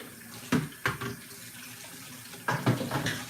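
Tap water runs in bursts into a kitchen sink as hands are rinsed after handling hot pepper, splashing and gurgling at close range and fairly quietly, with no voices.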